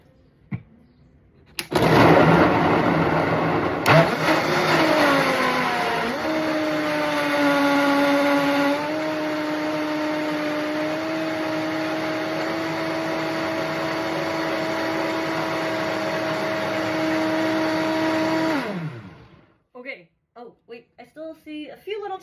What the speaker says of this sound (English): We're gonna turn on the Vitamix and let this blend until smooth.